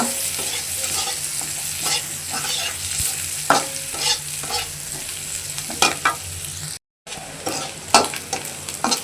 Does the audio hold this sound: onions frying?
yes